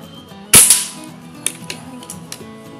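A single sharp airsoft rifle shot at about 1020 fps with heavy BBs cracks out loudly, followed by a few faint clicks and mechanical ticks as it settles.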